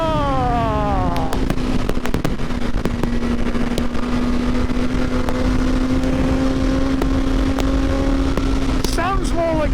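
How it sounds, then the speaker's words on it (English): A 2023 BMW M1000R motorcycle engine revs on the road, its loud, rising and falling whine sweeping up and down near the rider, with wind noise and sharp clicks throughout and brief gear-change rises near the end. "Sounds more like a fighter plane than any sort of a motorcycle"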